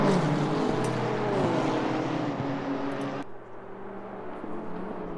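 Race cars roar around a circuit in a dense, loud engine wash, one car's pitch sweeping past before the sound drops sharply to a lower, steadier drone.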